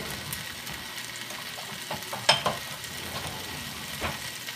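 Strips of bacon laid in a pan and frying with a soft, continuous sizzle, close by, with a couple of light clicks as pieces are placed; no one talks.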